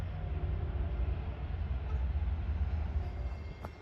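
A Long Island Rail Road diesel train approaches westbound, heard as a low, steady rumble from a distance that holds at an even level, with a brief faint squeal near the end.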